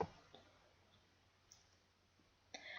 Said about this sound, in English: click the Share button directly underneath the video